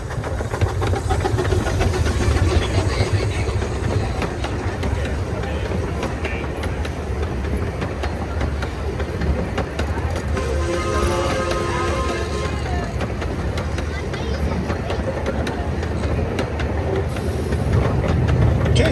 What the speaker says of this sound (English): we're going to ride the train one more time